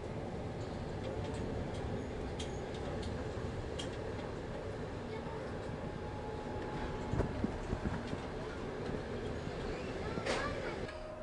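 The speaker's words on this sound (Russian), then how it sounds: "Тащимся в поезде Ейск-Москва со скоростью около 40 км в час" Passenger train from Yeysk to Moscow rolling slowly, heard from inside as a steady low rumble and hum with faint rattles and a few brief clanks, continuous and even throughout.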